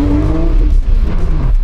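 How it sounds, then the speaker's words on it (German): A car engine close and loud while driving, its steady growl falling in pitch as the driver downshifts, with no talking over it. "Ich könnte die ganze Zeit mit dem Auto fahren"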